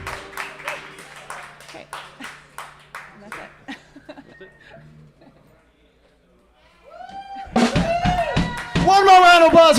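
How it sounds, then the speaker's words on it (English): Applause and cheering from the audience at the close of a comedy talk show, swelling loud and dense in the final seconds after a stretch of speech and a near-silent pause. "One more round of applause for Sex Pizza, everybody."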